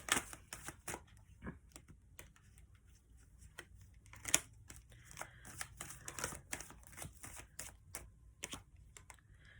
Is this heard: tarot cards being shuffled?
yes